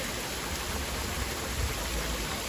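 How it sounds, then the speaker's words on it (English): A waterfall in the Dominican Republic rushes as a steady, broad hiss of falling water, constant and fairly faint without any variation or voices. "Waterfall."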